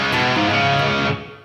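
Distorted electric guitar playing the opening phrase of a riff slowly, one thick sustained chord ringing loud and steady before cutting off and decaying, with no talk.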